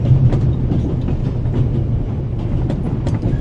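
A moving train rolls along with a steady low rumble and faint rhythmic clatter, carrying on evenly throughout at moderate loudness.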